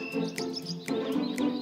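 Little cartoon birds chirp in short, bright bursts about every half second over a steady mid-pitched background, fairly close and moderately loud.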